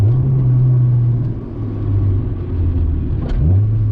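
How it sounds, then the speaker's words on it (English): Engine of an Acura Integra daily driver revving up under moderate acceleration, a steady close-up drone that dips briefly, then climbs again with a rising pitch sweep near the end, no talk over it. "I'll give you a little acceleration test."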